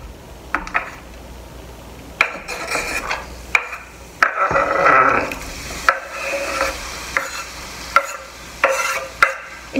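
Garlic, onion and tomato hit hot oil in a pan on a home stove, bursts of sizzling and frying rising and fading amid repeated clinks and scrapes of a utensil stirring against the pan.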